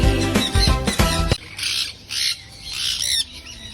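Free-roaming birds kept outside cages give loud, harsh squawks close by, a quick burst of repeated calls followed by several shorter, raspier squawks with brief pauses between.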